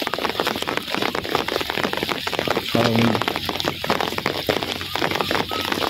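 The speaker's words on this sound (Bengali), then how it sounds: "ঘুরি ঘুরি বৃষ্টি কিন্তু ভালোই লাগে" Steady rain falls and patters across surfaces, heavy and continuous, while people talk over it in an outdoor street where schoolchildren walk under umbrellas.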